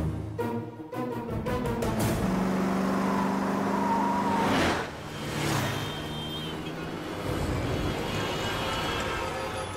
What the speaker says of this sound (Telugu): ఇక్కడ ట్రాఫిక్ జామ్ అయింది